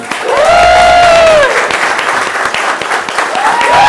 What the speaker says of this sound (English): So can we please welcome to the stage and give her a round of applause, Ms. Leigh Simpson.